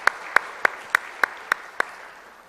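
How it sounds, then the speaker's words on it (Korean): Church congregation applauding at a Sunday service in Korea to honor award recipients, heard as evenly spaced, fairly faint claps repeating about every third of a second, as if one pair of hands keeps a steady beat over soft room noise. "우리 큰 박수로 격려해드리도록 하겠습니다."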